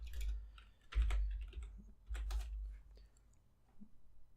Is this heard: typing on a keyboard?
yes